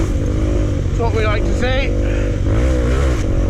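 A motorcycle engine on a green lane on Salisbury Plain revs hard, with rising and falling throttle blips under steady loud wind and engine noise, while someone talks over it.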